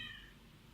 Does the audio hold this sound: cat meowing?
yes